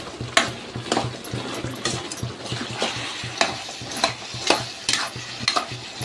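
Chicken pieces coated in turmeric and chili powder are stirred in a hot pan for a chicken fry, giving a steady sizzle broken by repeated scraping strokes of a spoon roughly every half second to second, close up, with no talking.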